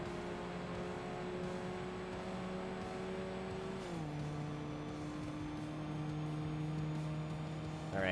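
A Toyota Supra race car engine in the racing game Forza Motorsport holds a steady, loud drone that drops in pitch partway through as if shifting, with no talking.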